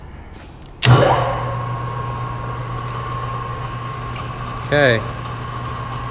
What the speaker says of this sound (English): We'll let the motor wind down completely, and then we'll reverse it.